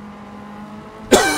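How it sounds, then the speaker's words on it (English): A single sharp human cough bursts out near the end, loud and close, after a steady low engine drone from a racing game runs underneath. "Please excuse me. Horrible cough."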